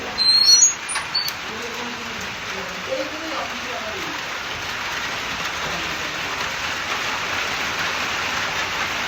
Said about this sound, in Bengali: তো দেখো বাইরে কিরকম বৃষ্টি শুরু হয়েছে